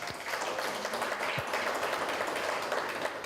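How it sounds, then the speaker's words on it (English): An audience applauds panelists at the close of a community leaders' engagement session on safeguarding, a full sustained round of clapping from many people at fairly close range, even and continuous. "I think they deserve a round of applause"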